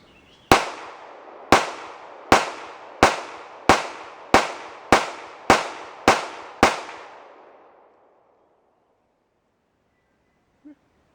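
Ten rapid 9mm pistol shots fired with remanufactured ammunition at a range, sharp loud cracks spaced about half a second to a second apart, each ringing out into echo, followed by silence and a faint click.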